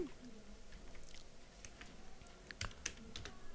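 Computer keyboard typing while entering a profile title during account setup, a soft scatter of light clicks at a moderate distance over steady background hiss, with a few sharper keystrokes near the end.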